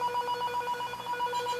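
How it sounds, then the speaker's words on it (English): A cordless phone ringing with a rapid warbling electronic trill, steady and fairly faint, filling the moment alone without speech. "I just also set off my cordless phone here."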